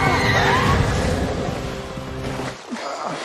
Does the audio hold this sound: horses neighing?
yes